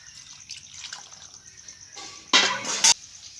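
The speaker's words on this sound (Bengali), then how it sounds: "এখন ধুয়ে নিচ্ছি, কাটার পরে আর ধোবো না।" Water runs over an ash gourd as it is washed. Faint trickling leads into a louder close gush that stops abruptly near the end.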